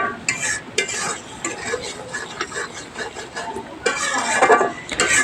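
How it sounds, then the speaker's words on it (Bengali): Masala paste for chicken curry, loosened with a splash of water, being scraped and stirred hard in a pan, giving irregular, close scratchy strokes with a brief louder burst near the end. "তারপরে মশলাটাকে আমি ভালো করে কষিয়ে নিব।"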